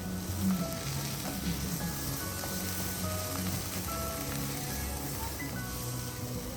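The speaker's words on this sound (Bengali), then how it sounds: "মশলাটা মোটামুটি ভাজা হয়ে গেছে" Spices cooked down with tomato paste, salt, turmeric and Kashmiri chilli powder bubble and sizzle softly in a pan, a dense steady crackle with faint background hum.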